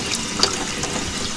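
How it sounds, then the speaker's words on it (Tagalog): Tap water pours steadily into a flowering potted plant for a short moment, close by, with one slightly louder splash partway through and no talking. "Lagyan lang natin ito ng tubig."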